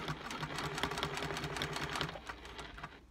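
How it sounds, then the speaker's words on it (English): A domestic sewing machine stitches fabric for a free motion quilted English landscape cushion, set to a 6 millimetre stitch. It runs as a steady, close, continuous rapid chatter of needle strokes with no talk. "I'm going to turn it up to 6 millimetres and stitch down this middle bit following that dotted line"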